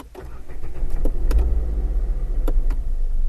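A car engine cranks and catches with the accelerator pedal pressed fully down, a loud close low rumble building quickly and holding steady with light mechanical clicks on top.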